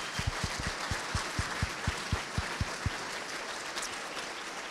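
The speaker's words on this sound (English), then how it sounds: "So let's give them a round of applause." An event audience gives sponsors a sustained round of applause, a steady even wash of clapping with a string of low thumps pulsing through its first three seconds, and no voices.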